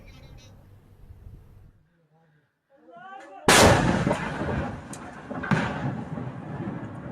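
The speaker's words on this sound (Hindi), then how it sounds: "और उसके बाद ये मिसाइल फायर किया गया।" A missile fired at an enemy post roars out in a sudden loud blast, then a rushing, sustained rumble with a second surge, after a stretch of quieter talk and shouting.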